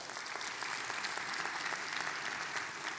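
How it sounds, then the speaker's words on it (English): An audience in a talk show setting breaks into steady, sustained applause, a dense wash of clapping hands with no talk over it for a few seconds. "Let's clap for that queen for that question"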